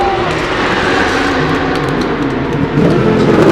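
A race car at the Le Mans 24 Hours pulls away from the pits after refuelling with no tyre change, a loud, continuous engine roar that swells and builds as the car accelerates.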